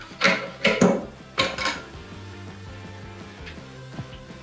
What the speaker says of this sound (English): make sure you stir it well so that you have a nice and smooth texture on it